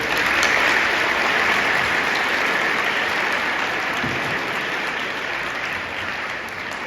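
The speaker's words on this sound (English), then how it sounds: "let's give a round of applause for them" A school audience applauds the robotics team at a high school Veterans Day assembly, a dense, steady wash of many hands clapping that holds loud throughout and eases off slightly near the end.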